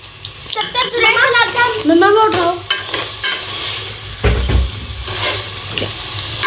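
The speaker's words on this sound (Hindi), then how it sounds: "तो गाइस, अब हम इसको थोड़ा सा हिलाएंगे, थोड़ा सा, ज्यादा नहीं।" A spoon stirs white sauce pasta sizzling in a hot pan, with a steady frying hiss and scraping strokes while a child and an adult talk over it.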